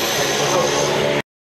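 A small, tiny passenger plane packed with fishermen in Placencia, Belize, its engine droning loudly and steadily inside the cabin before cutting off abruptly.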